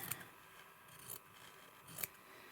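Scissors snip through small pieces of fabric for a crazy patchwork embroidered journal cover, three quiet, close cuts spaced about a second apart with no talk.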